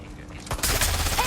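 A burst of gunfire erupts in the video game Watch Dogs Legion, starting suddenly after a quieter moment and continuing as a dense, loud volley over game background sound.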